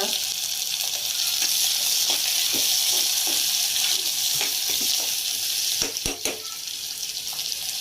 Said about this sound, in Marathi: हे तेल ठेवलंय गरम कराय. त्याच्यामध्ये आपण काय टाकलंय? तेजपत्ता, कांदा, हिंग,